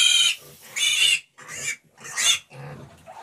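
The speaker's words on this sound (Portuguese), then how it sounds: "Esse leitão que vocês estão vendo, filho do Duroc preto com a porca caipira." A Duroc cross piglet squealing loudly and close while being vaccinated, giving four or five shrill bursts separated by brief gaps.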